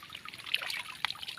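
Water trickling and flowing in a small stream or channel after a night of heavy rain, a faint, brief burble with light splashes, heard alone.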